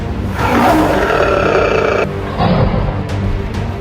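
A lion lets out deep, rumbling roars up close, loud and drawn out, with a brief pause before a second growling roar that trails off into grunts.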